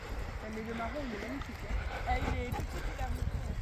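Horses' hooves clip-clop on the ground outdoors in the rain near borzoi dogs, soft irregular thuds under a person speaking calmly throughout.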